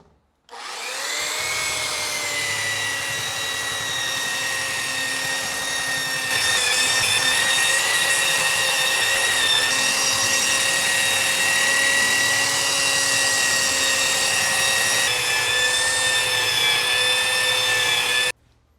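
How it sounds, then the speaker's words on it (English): A belt sander runs continuously across the underside of a walnut desk, a loud close whining drone that starts abruptly, steadies, rises slightly in intensity midway and cuts off near the end. "we're just going to first belt sand the bottom"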